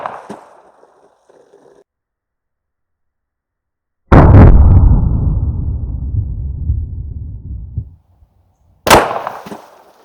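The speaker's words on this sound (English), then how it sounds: "got one of these Remington Golden Sabers loaded in the BRG9 here, 4-inch barrel. Let's put one through those jugs" A 9mm BRG9 pistol with a 4-inch barrel fires a Remington Golden Saber round into water jugs outdoors. A sharp, loud report rolls off into a long rumbling tail, and a second crisp crack follows near the end.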